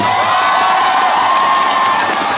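Crowd noise at a Doosan Bears fan-service event in a baseball stadium, a loud, continuous roar of cheering voices with shouts blended in and little break, heard alone without distinct talk.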